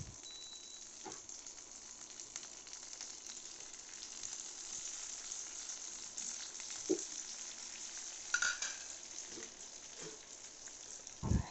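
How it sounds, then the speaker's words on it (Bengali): Bottle gourd leaves fry one by one in a small amount of oil, making a faint, steady sizzle up close with no talk. A few soft knocks and clinks of utensils come through now and then. "এখানে স্বল্প পরিমাণে তেল দিয়ে সেটার মধ্যে আমি লাউ পাতাগুলো এক,"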